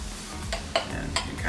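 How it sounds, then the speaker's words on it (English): Popcorn being folded into warm liquid ingredients in a microwave-heated bowl, a soft continuous sticky stirring with a few sharper scrapes and clicks against the bowl. "So we're gonna start mixing this all together. So just kind of fold it in"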